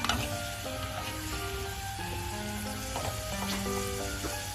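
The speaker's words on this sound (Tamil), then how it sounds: "நெய் ஊற்றி முந்திரியை கொஞ்சம் செவக்க வறுக்கிறோம். இது கூடவே திராட்சையும் சேர்த்து வறுக்கணும்." Cashews and raisins frying in ghee in a pan, a continuous close bubbling sizzle with faint stirring clicks, while a tonal hum runs underneath.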